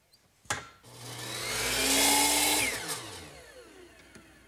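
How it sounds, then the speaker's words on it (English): A miter saw swung to the opposite 45-degree angle cuts a wooden piece for a Chippendale mirror frame: a sharp click, then the motor spins up into a loud whining cut that peaks and winds down, alone and fairly near. "Swing the saw back over to the other side of 45 and cut it off."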